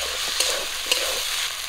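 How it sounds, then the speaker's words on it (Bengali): Ginger-garlic paste with cumin and dried red chilli paste stir-frying in a pan for a tomato pabda fish curry, a steady hiss and sizzle with a couple of sharp clinks of a spatula. "আদা রসুনটা দিয়ে আবারও কিছুক্ষণ ভাজা করে নেব"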